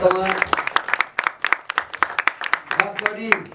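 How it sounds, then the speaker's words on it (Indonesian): An audience claps in scattered, uneven bursts at close range, with a voice talking over the applause at the start and again near the end. "Boleh berikan tepuk tangan dong,"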